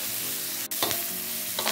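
Chilies stir-frying in a pan give a loud, close, continuous sizzle with a couple of scraping stirs of the utensil, and no voices.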